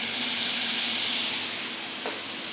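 Broth poured into a hot pan of bok choy in a Josper oven, producing a loud, steady broadband sizzle and hiss that persists throughout, with a brief faint clink near the end.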